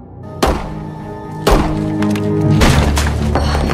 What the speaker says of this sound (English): where they hear two gunshots.